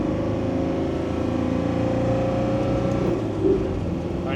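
A Land Rover Defender 90 with a 300 Tdi diesel engine runs hard on a dyno in second gear, a loud steady drone with a low rumbling hum holding at high load throughout, no talk.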